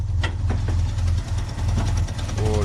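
An old Chevrolet Opala car engine idles close by, a steady low rumble holding throughout with faint higher clatter above it.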